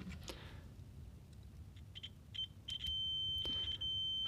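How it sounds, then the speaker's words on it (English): Multimeter set to continuity on a power supply fuse gives a short blip, then a steady sustained electronic beep near the end, over quiet room noise. "Let's put this round to continuity."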